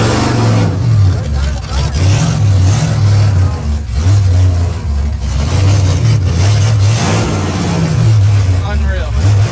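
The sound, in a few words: drag race car accelerating out for a run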